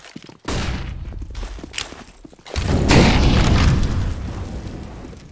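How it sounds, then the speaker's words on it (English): Flashbang detonating in Counter-Strike on the Inferno map: a loud, close blast with a crackling burst, following earlier rumbling game noise and preceded by a sharp pop, with no speech. "Throwing flashbang."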